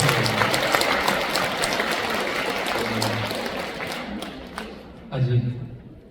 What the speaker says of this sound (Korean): 찬미의 한마디에 이렇게 박수를 받을 수 있다니